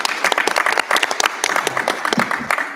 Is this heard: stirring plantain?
no